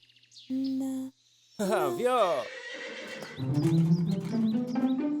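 A horse whinnies loudly with a wavering, descending call, followed by snorting and rustling; a brief tonal chime sounds before it.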